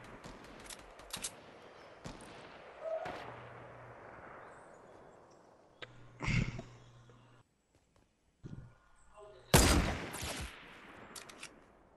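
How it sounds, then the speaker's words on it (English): Sparse, sharp shots ring out in a video game, among them a sniper rifle crack. Several isolated reports are separated by quiet gaps, and the loudest blast comes near the end. "I just hit one with a sniper."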